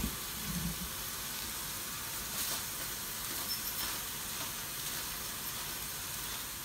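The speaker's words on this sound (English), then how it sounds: "We're gonna brown our meat." Ground meat browns with garlic in a pan, giving a steady, soft sizzle and hiss that runs evenly throughout at low volume.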